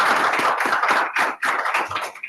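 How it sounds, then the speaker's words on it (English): A panel audience at a methane policy event claps in a dense, steady round of applause lasting a couple of seconds, loud and close with no voices over it. "Let's get a quick round of applause for our panel here."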